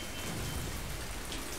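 Steady rain pours in the video game Left 4 Dead 2, a constant, even hiss of drops that fills the whole moment at a moderate, distant level.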